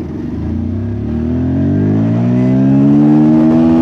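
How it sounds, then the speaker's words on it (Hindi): A Pulsar 150 BS6 motorcycle engine revs up steadily in first gear, its pitch climbing continuously over about four seconds, loud and close with no talk. "आज हम चेक करने वाले हैं मेरे बाइक का वन गियर में कितना जाता है"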